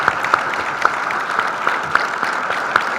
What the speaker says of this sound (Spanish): Un aplauso otra vez a Laura Restrepo.